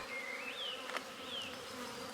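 Honey bees swarm around an open hive during an inspection, a dense steady buzz running throughout with individual bees droning past close by in rising and falling sweeps.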